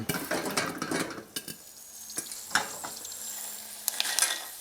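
Ginkgo nuts cooking in a lidded pan, sizzling that fades to a low hiss, broken by sharp irregular pops and rattles as shells burst, close and without talk.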